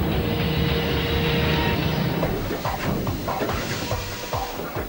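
A roller coaster train loaded with water dummies launches during a test run, a loud sustained rushing roar that fades into rattling, clattering track noise as it moves away.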